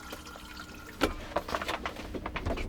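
Water runs from a tap in a 2020 Mercedes-Benz Sprinter Westfalia camper van, a short burst of splashing and trickling that starts suddenly and then patters quietly and unevenly.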